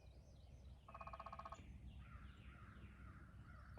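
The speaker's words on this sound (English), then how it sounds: "A lot of crows and stuff around me, I'm sure you can hear" Crows caw repeatedly in the distance, a burst of harsh calls followed by scattered fainter ones over a steady outdoor hum.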